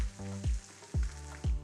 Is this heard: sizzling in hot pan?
yes